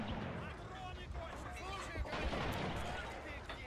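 In the video game Men of War: Assault Squad 2, an anti-tank gun fires a few muffled booms amid dense battle noise, with in-game voices talking over the fighting.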